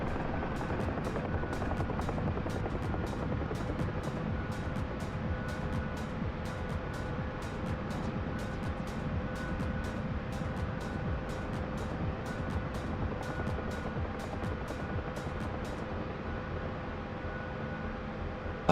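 Twin-rotor Chinook helicopter in the flight sim DCS World, a steady, dense rotor roar with regular blade thumps running continuously and evenly at moderate level throughout, with no talk over it.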